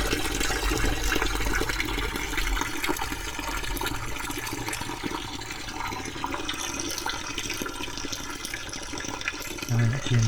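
Grey water from a self-build camper van tank gushes out through an opened valve, a steady rushing, splashing flow that runs continuously nearby with some background noise.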